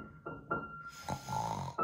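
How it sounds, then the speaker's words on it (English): Parents snoring in a children's storybook narration, a few short loud rasping snores in quick succession, with no talk during them. "Mummy and Daddy snore."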